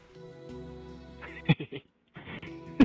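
Sheep bleating close by in two separate wavering calls with a gap of quiet between them, loud and clear with no talk over them.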